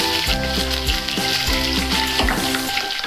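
Ginger fries in hot oil in a pan and is stirred, with a constant sizzle and repeated scraping strokes of a spoon in an even rhythm, close and without talk.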